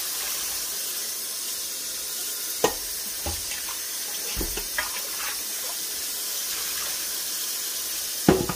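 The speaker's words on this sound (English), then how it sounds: "I'm getting ready to rinse my beans off." Tap water running steadily into a kitchen sink while soaked beans are rinsed, an even hissing stream with occasional soft clinks and splashes close by.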